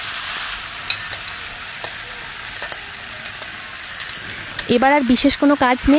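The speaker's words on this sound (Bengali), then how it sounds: "এবার কড়াইয়ের মধ্যে মাছগুলোকে ঢেলে দেব।" Marinated pangas fish hits a hot kadai with a steady sizzle and frying hiss that runs throughout, with a few soft clinks, and a person begins talking over it near the end.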